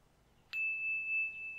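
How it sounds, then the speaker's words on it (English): A small heart-shaped metal bell is struck once, giving a clear bright ding with a steady, sustained ringing tone that hangs in quiet air for over a second, close and fairly soft, with a faint second touch near the end. "I have here a heart. Heart bell."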